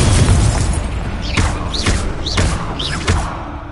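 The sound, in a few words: Incendio fire spell cast, from the video game Hogwarts Legacy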